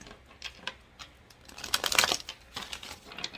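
Tarot cards being shuffled by hand, a soft papery riffling and crinkling in quick bursts, building to a denser flurry in the middle before tapering off; close and fairly quiet, with no talking.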